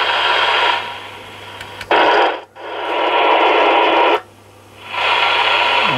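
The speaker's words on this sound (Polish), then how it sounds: "O, szum własny tego radia, powiem wam." Loud broadband static hiss from a President TEDDY 2 CB radio wired with reversed polarity to 24V, cutting in and out in bursts, with a low steady hum beneath and brief clicks at the transitions.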